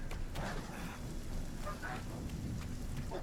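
Thunderstorm in RuneScape: Dragonwilds, with steady heavy rain pattering close by and low rumbling thunder underneath, continuous throughout.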